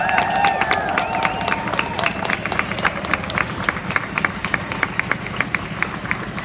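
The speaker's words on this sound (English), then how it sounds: "a big round of applause to our judges out here today" A crowd at an outdoor People's Tribunal rally applauds the judges, with many hands clapping and sharp rhythmic claps standing out, under faint voices and a low steady hum, loud and sustained throughout.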